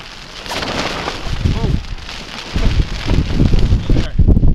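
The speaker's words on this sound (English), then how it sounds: "It is windy and it is raining" Wind and rain batter a campsite at night, gusting buffets and rain hitting tarps or tent fabric, loud and close, with rumbling surges as the wind picks up.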